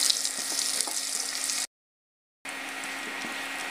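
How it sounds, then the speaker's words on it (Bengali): Beef sizzles steadily in a pan with chopped ginger and garlic while being fried for a beef pickle, a close, even hiss broken by a brief silent gap partway through. "আদা কুচি রসুনের কুচিটা সহ মাংসটা আর একটু ভেজে নেব।"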